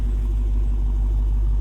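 A supercharged 6.2-liter V8 in a 2023 Dodge Charger SRT Hellcat Jailbreak idles with a steady, deep low rumble, close and continuous throughout with no talking.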